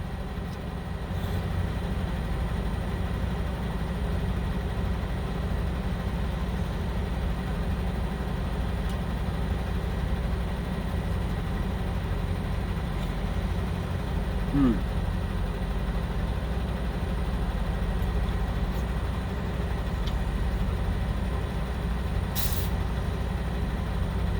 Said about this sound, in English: Let that engine get all nice and warm.